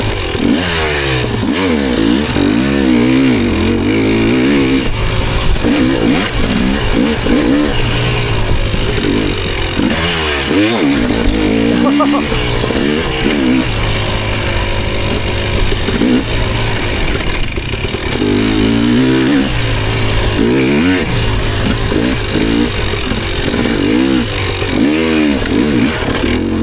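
Dirt bike engine revving hard and loud throughout, its pitch rising and falling in rapid waves as the rider works the throttle, a close, continuous buzzing roar with no talking.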